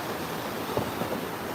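A fast, swollen river current rushes past a crossing point near an old bridge, a dense, steady wash of water noise heard close and without speech.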